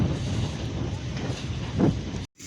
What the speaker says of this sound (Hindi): तक्की सकने तुसां बहुत तेज़ हवा चलनी पी है